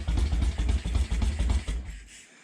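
A Moto Guzzi Police Eldorado motorcycle engine idles very low and close, with a slow, loping, lumpy pulse of exhaust beats for about two seconds before it cuts off and falls quiet.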